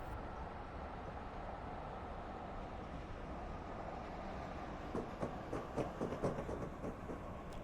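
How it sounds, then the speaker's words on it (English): An Amtrak train in Piedmont livery in the Train Sim Classic game slows down, a faint steady low rumble of the locomotive and rolling cars, with a few soft clanks and thumps toward the end. "Let's go ahead and start slowing this bad boy down before we have a runaway train over here."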